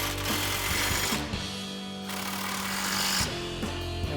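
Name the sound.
impact wrench with 18mm socket tightening bumper bolts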